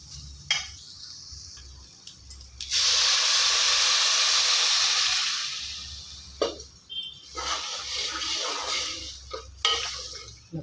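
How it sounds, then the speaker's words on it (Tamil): Water is poured into a pot of village-style cowpea curry, giving a loud, rushing hiss and sizzle that lasts several seconds and then fades into light clinks and stirring of the pot. "இப்போ தண்ணி ஊற்றி இந்த காயை வேக வச்சிடலாம்"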